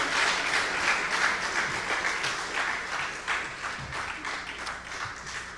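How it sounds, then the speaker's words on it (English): Large ceremony audience at a Caribbean broadcasting union general assembly gives a sustained round of applause, a steady wash of many hands clapping without pause. "another round of applause for Dr."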